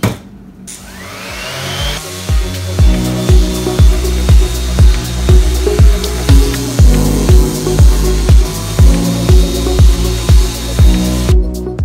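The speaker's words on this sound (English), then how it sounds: "I'm going to begin sanding these cutting boards with some 80 grit" A power sander with 80-grit paper whirs continuously on wooden cutting boards, with rhythmic thumps about every half second as it is pushed back and forth.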